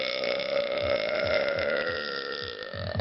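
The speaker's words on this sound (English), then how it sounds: "the burp going on in the background" A long, drawn-out burp from a man rumbles steadily for about three seconds in the background, continuous and fairly loud with no break.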